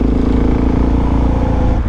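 A motorcycle engine runs loud and steady at close range as the rider shifts up into third gear, a continuous low rumble with no break in sound across the short stretch.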